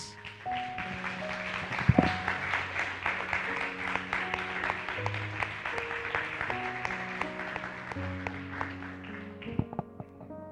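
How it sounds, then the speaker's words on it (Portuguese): Church congregation gives a steady round of applause over sustained keyboard-like musical tones, the clapping fairly soft and continuous throughout. "Aplauda Jesus"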